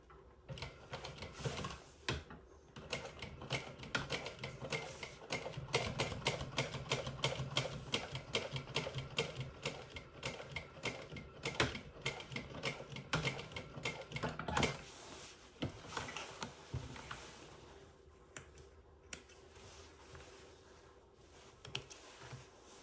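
Industrial sewing machine stitching at close range, a rapid, even mechanical clatter running for long stretches, with short pauses and restarts between runs.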